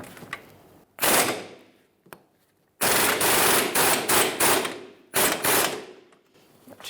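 A pneumatic impact gun with a 17mm socket loosens a control arm bolt on a 2013-2018 Toyota RAV4 in a garage, firing several loud, rapid hammering bursts close up with short pauses between them.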